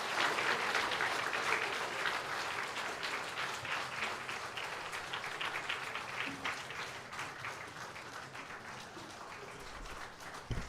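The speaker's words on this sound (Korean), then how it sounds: "우리 다 들어갈 때까지 다시 한번 큰 박수 부탁드립니다" Congregation applause fills a church during a multigenerational Sunday worship service, sustained dense clapping at steady loudness that slowly thins toward the end.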